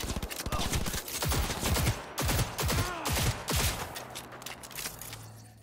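Rapid enemy gunfire in the video game Cyberpunk 2077 crackles in steady bursts over several seconds, close and loud, fading at the end under a low hum.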